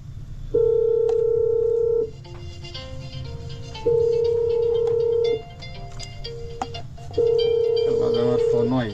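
A telephone rings in three long, loud pulses with a steady electronic tone, separated by pauses in which faint kitchen noise and a voice can be heard.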